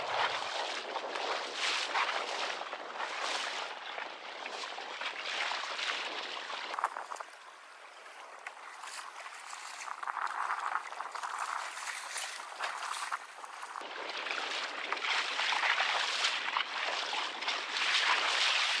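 Tiny Pond Prowler boat running full speed into waves, wake and 15-20 mph wind, heard as a steady rushing blast of wind and water noise with occasional splashes and no talking.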